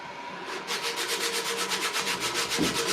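Steady rhythmic rasping of coarse 80-grit sandpaper scrubbing back and forth on an old paint can, loud and close, strokes repeating several times a second.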